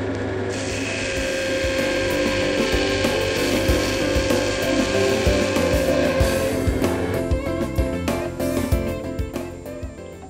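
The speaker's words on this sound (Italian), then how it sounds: "Tenendo la sgorbia con le ali in verticale orientate verso destra, scaviamo tallonando." A gouge cuts into a segmented wooden bowl spinning on a lathe, giving a continuous whirring scrape with dense rapid chatter, loud and close for about ten seconds and with no speech.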